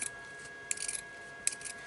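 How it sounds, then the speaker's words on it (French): Multi-purpose scissors trim small excess edges of quilted fabric on a zippered pencil pouch, two quiet brief snipping cuts with soft rubbing between them against near silence. "vous prenez vos ciseaux multifonctions et puis vous coupez tous les petits excédents"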